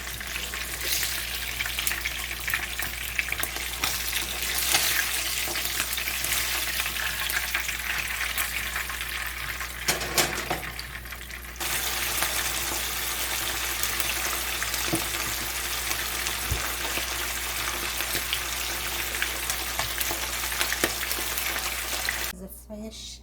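Fish fries for Jamaican brown stew fish, a steady loud sizzle of hot oil in a pan that runs nearly unbroken, dipping briefly midway, with faint clinks and stirring.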